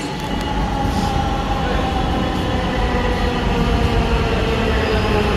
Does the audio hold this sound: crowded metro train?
yes